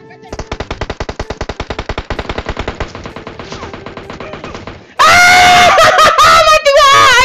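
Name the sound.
gunfire in the video game PUBG Mobile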